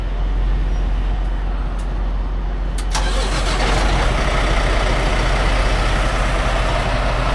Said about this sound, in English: start your truck